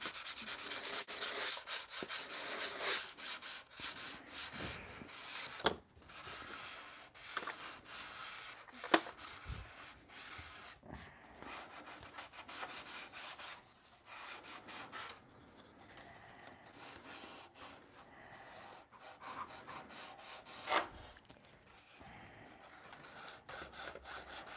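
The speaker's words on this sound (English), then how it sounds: "I sanded all those to exactly the same length." Wooden cap strips are sanded by hand with irregular rubbing and scraping strokes, close and fairly quiet, with occasional sharper knocks between passes and no speech.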